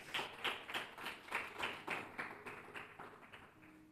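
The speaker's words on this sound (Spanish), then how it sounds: "dan un fuerte aplauso al Rey de Reyes" Faint, rhythmic clapping from a church congregation during a sermon, steady beats about twice per second for under four seconds, no talk over it.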